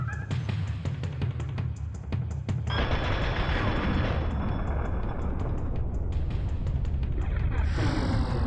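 Rapid weapon fire and explosions from an alien weapon in the video game Turok: Dinosaur Hunter, a loud, dense string of sharp bursts followed by sustained booming blasts, with no one talking.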